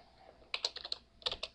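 Fingers type a short entry on a computer keyboard while designing a logo in CorelDraw: two quick, close bursts of crisp key clicks separated by a brief pause.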